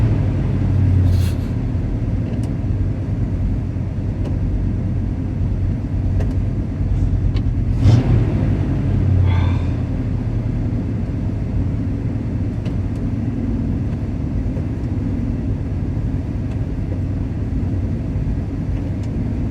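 A 1969 Plymouth Fury III idles after warming up, its low, steady engine rumble holding close and even throughout, with a few faint higher clicks and hisses over it.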